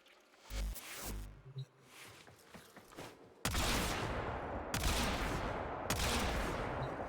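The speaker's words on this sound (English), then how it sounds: "I'm just shooting a bolt" A bolt-type projectile weapon fires in the video game Warframe, giving a few sharp separate shots after a quieter stretch of thuds and clicks, then a sustained dense burst of noise with repeated loud cracks near the end.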